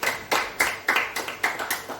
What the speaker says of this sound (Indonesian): Tepuk tangan dulu dong buat Tuhan kita